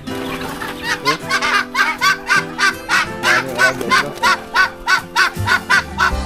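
Ducks on a rice farm give a loud, close run of rhythmic honking quacks, about two calls a second, lasting the whole stretch with no pause.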